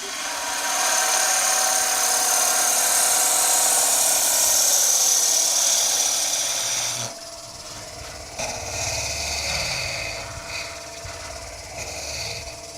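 A woodturning lathe taking a cut on a German smoker project, giving a loud, steady high whine for several seconds before it drops off to a quieter, uneven hum.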